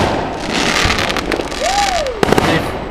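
Bonfire Night fireworks crackle and pop across a city, with a whistling rocket rising and a short burst of bangs near the end, heard at a distance through steady outdoor noise.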